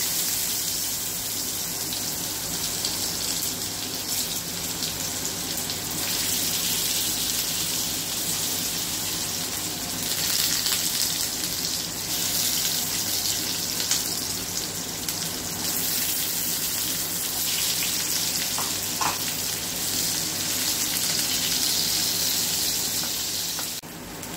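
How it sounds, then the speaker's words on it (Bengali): Pieces of elephant foot yam fry in hot oil, a steady, even sizzle and hiss that holds at a fairly constant loudness throughout, with no one speaking. "এবার আমি একটা করে ওল এরকম করে তেলের মধ্যে দিয়ে ভেজে নেব।"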